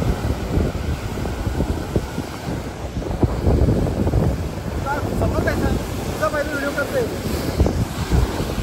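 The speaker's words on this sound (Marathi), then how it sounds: "त्याला बोलतात समुद्र खवलणं" Rough, churning sea surges and washes in a steady roar close by, thick with wind buffeting the microphone, while people talk over it through much of the stretch.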